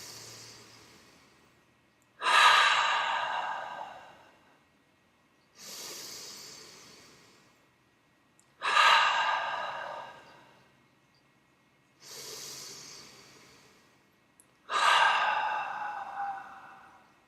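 Slow, deep breaths during a guided breathing exercise: five long breathy swells in a steady rhythm, each rising sharply and then fading out, heard up close with short silences between them.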